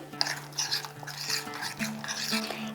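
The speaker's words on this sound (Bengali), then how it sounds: "একটু একটু করে দিয়ে এটাকে মেশাতে থাকতে হবে" Batter being stirred in a bowl while water is added little by little, for a Bengali rohu fish recipe; a steady scraping, clinking stir runs throughout, close and moderately loud, with no talk.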